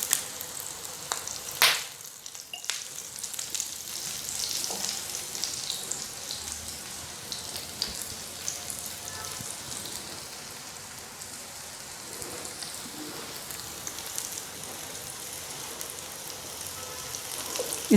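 A kebab frying in vegetable oil, turned around in the pan, makes a continuous crackling sizzle with a sharp clatter near the start, then settles into a softer, even hiss with no talk.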